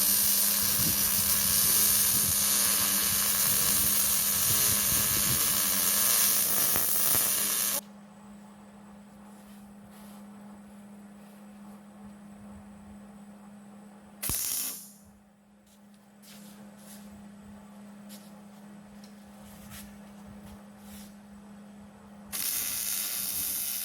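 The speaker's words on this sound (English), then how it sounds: "So, time to weld." Steel for a farmers carry frame is welded, with a loud, steady crackling hiss for several seconds. After a quiet stretch there is a short burst, and the arc starts up again near the end.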